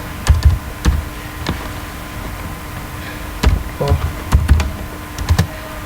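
A computer keyboard is typed on up close in short bursts of crisp key clicks, with brief pauses between the clusters.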